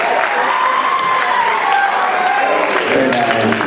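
Graduates at a 2013 project grad event applauding themselves, a steady wash of clapping from a crowd with faint cheers mixed in, sustained and fairly loud throughout.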